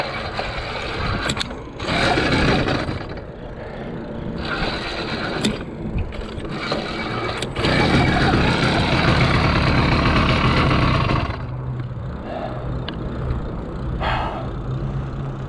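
A motorized bicycle's small engine sputters and runs in uneven bursts, loud and close, rising and dropping with rattling mechanical clatter between runs.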